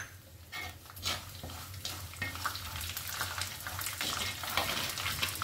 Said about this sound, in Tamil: கருவேப்பிலை நல்லா கரகரான்னு பொரிஞ்சிடட்டும்.